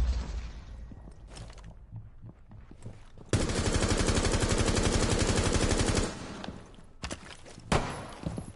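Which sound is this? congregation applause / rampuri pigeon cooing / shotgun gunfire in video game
shotgun gunfire in video game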